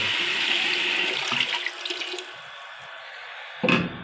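Water poured into a pot of mutton for Eid mutton yakhni: a steady, fairly loud pouring splash for about two seconds that fades, then near quiet with a brief splash near the end.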